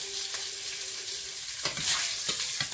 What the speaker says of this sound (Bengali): কড়াই এবার একটু তেল দিয়ে দেবো, তেলের মধ্যে একটু শুকনো লঙ্কা দেবো, তেজপাতা, একটু জিরে ফোড়ন